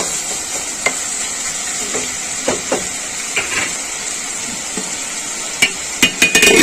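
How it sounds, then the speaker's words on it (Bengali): Shrimp with water lily stems, salt and turmeric fry in a pan with a steady, close sizzle and hiss, broken by scattered scraping and tapping of a spatula that quicken toward the end. "এবার আমি এটাকে ভাজতে দেব"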